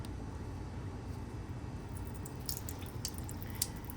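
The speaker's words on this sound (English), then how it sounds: "So go ahead and turn on the DI water first." Deionized water runs from a laboratory tap during cleaning for a BET surface-area analyzer, a steady low wash of flow with a few faint drips and splashes near the end.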